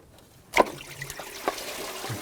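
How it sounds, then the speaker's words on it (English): Engine coolant dribbles out of the thermostat housing on a 2004-2009 Audi A4 Quattro 2.0L four-cylinder, a close, faint trickle with a few soft splashes and drips. "Some more coolant came out."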